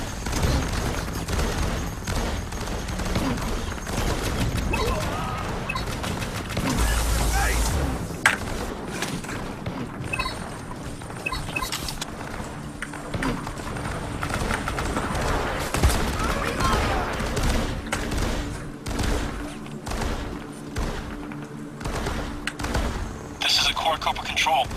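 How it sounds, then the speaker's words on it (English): Rapid turret gunfire bursts from the shooter game Firefall, dense repeated shots over game sound effects, with voices talking through much of it. "I will plant myself as a turret and start shooting"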